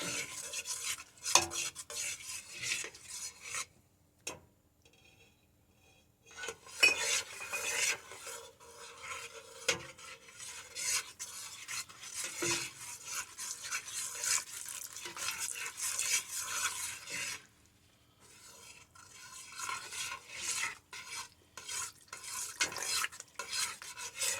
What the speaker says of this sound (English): You want to stir it in slowly so you don't have any lumps.